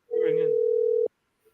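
A telephone call rings out: one steady ringback tone lasting about a second, loud and close, briefly overlapped by a voice at its start, then a quiet pause.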